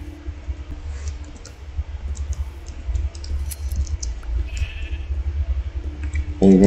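A single sheep bleats in the Minecraft video game, a brief game-style bleat heard amid clicking and low background sounds, with no talking over it.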